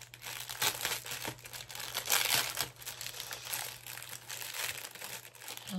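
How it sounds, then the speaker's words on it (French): Packaging crinkles and tears as a new pair of pliers for preparing a fresh canvas is unwrapped, with dense, continuous rustling close to the mic and a steady low hum underneath. "Alors, je vais déballer."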